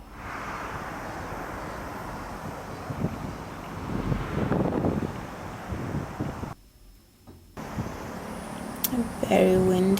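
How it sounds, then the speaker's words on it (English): Wind gusts buffet the microphone with a roaring low rush near Shinkiba Station in Tokyo, swelling and easing, with a brief dropout and some clatter near the end. "Very windy."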